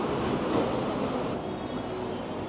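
Vienna metro train at a station, a steady loud rumble of rolling wagons and rail noise that holds close and dense throughout, with no voices.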